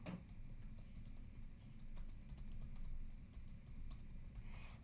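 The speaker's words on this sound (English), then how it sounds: "we need to type in Marvel Contest of Champions codes" Fingers tap out a search on a computer keyboard, with rapid, uneven key clicks over a low steady background hum, close but soft.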